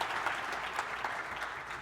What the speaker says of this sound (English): give them the round of applause